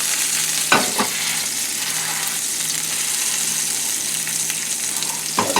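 Red snapper pressed skin-down into hot oil in a pan, frying with a steady, close sizzle throughout and a few sharp spatter pops and clatters near the start and end.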